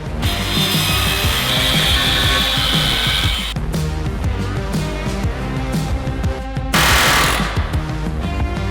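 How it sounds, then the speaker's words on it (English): On a Toyota Tacoma frame, a cutoff wheel slices into a rivet head at an angle, producing a loud, sustained abrasive grinding screech that eases briefly midway, then surges again before trailing off. "I'm gonna cut it at an angle this way"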